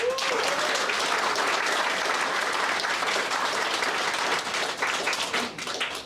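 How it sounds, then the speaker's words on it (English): Sustained audience applause at a 2024 graduation ceremony of the Victorian Institute of Technology in Sydney, with dense, steady clapping from a large crowd throughout that thins slightly toward the end. "give them a huge round of applause"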